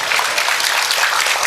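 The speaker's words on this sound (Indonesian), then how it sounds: "Nanti lagi kalau di masjid tepuk tangannya ditunda ya" A crowd claps inside a mosque, steady dense applause from many hands, loud and continuous throughout.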